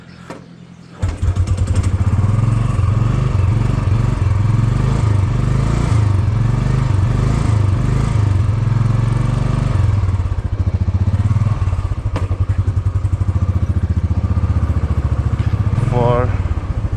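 A motorbike starts up and rides along a road, its engine thrumming loud and close in a steady, throbbing rumble with clattering and a few thumps, and a brief voice near the end.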